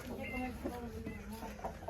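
A broody hen about to hatch chicks gives a few soft, short clucks, faint and close-by, in a quiet farmyard.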